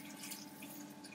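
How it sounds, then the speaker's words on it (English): Hot water poured from a kettle onto couscous in a saucepan, a steady close splashing trickle lasting about a second with no talking. "I've got some hot water here, so I'm just going to put some hot water on it, like that"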